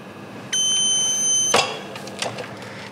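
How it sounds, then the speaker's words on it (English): Jura Cool Control 0.6L milk cooler sounding its low-milk warning: one steady electronic beep of about a second, clear and close, followed by a short click and faint handling noise. "there's a red light and a beep telling you you need more milk"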